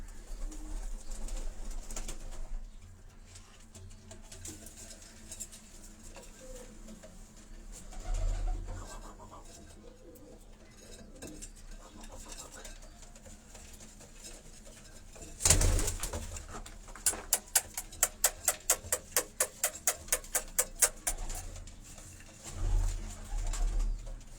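Pigeons, including a female and the bird behind her, coo faintly on a Karachi rooftop loft, soft low calls under background hum, followed by a burst of rapid, evenly spaced clicks or flaps near the end.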